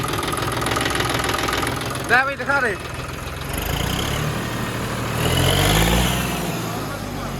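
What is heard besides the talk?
tractor engine starting and idling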